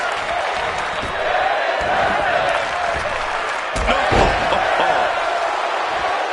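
Wrestling arena crowd in the WWE 2K25 video game, a steady roaring murmur of spectators with a sharp slam-like impact partway through.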